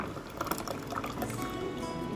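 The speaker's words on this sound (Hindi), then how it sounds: "एक ग्लास में 1 चम्मच आम पन्ना का पेस्ट डालिए और उसका पानी डालिए।" Water pours into a glass holding aam panna paste, a continuous close splashing trickle for a couple of seconds.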